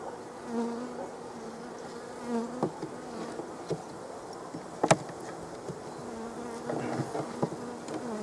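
Honey bees buzz steadily around an open hive during an early-spring inspection, a continuous droning hum with a few brief knocks and louder swells, heard alone with no talk.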